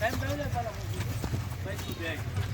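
Hooves of a ridden mare in Zalawad clip-clop in a quick, steady rhythm during a gait trial, close and clear, with someone talking over them throughout.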